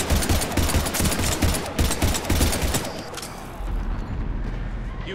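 Dense combat gunfire from Mass Effect 3, rapid bursts of automatic weapons crackling close and loud for several seconds, then thinning as a low rumble takes over.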